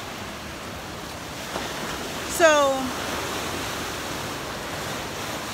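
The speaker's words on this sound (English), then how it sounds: "the water is loud" Loud water with waves near the shore, a constant broadband wash of surf and wind noise close to the microphone, with a brief word spoken over it.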